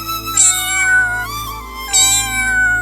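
A cat meows repeatedly and loudly, about three drawn-out cries close by, with no talking.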